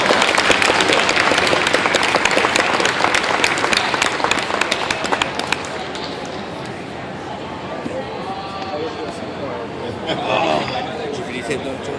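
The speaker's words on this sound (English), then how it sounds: "So a big round of applause, please, for Ernie." Loud, dense applause from a fan-convention crowd at Scare A Con 2013 for actor Ernie Hudson after his Q&A. Heavy clapping fades into crowd chatter and a few whoops.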